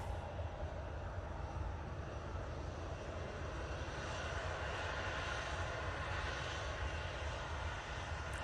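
An airliner bound for Madrid passes over Manchester Airport, a steady broadband engine roar that holds at an even, moderate level throughout with no talking.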